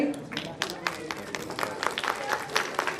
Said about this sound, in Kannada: ಚಪ್ಪಾಳೆ ಬರ್ತಾ ಇರಲಿ.